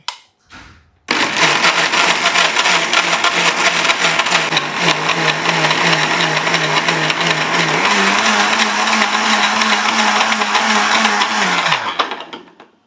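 A mixer grinder blends a homemade drink in its jar: a loud, steady motor whine runs for about eleven seconds after a short start-up burst, its pitch rising slightly partway through before it winds down and stops.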